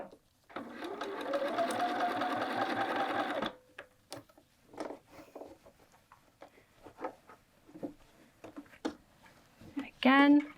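Sewing machine back tacking on a quilted jacket collar, a close steady whir for about three seconds that stops abruptly, followed by soft handling taps and rustles and a voice near the end.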